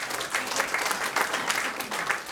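An audience claps steadily in a continuous round of applause that carries through without a break, moderately loud with no talking over it.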